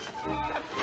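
Chickens clucking close by, a short burst of busy, overlapping clucks with no talk over it.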